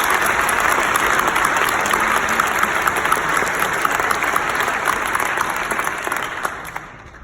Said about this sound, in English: let's give another big round of applause for our graduating class.